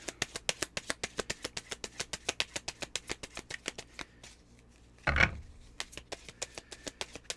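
Tarot cards are shuffled and drawn in a fast, steady run of crisp riffling clicks close by. A brief lull is broken by one louder rustling burst, then the rhythmic shuffling resumes, with no voices.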